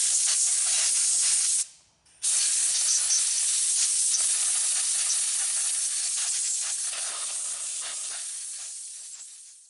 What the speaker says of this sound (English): Go ahead and blow off the area with some compressed air.